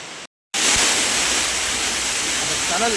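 Falls opposite the sea on a forest route near Gavi roar as a dense, constant rush of water, loud and close after a brief cutout at the start.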